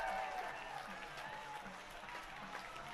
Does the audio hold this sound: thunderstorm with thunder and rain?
no